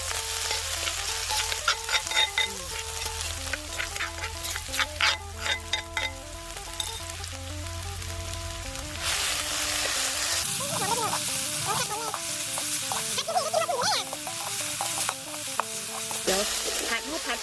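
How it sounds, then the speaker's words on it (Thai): Food sizzles and crackles in hot oil as it is stirred around a pan, with occasional clinks, steady and close. "น้ำมันมันเดือดแล้วเอาลงไปผัดเลย"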